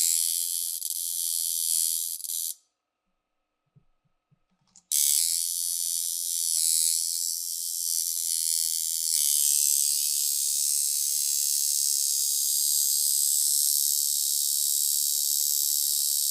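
A tattoo coil machine with a small capacitor, tuned by its contact screw, buzzes loudly and fast up close in a steady high whine, cutting out for about two seconds before restarting and running on evenly.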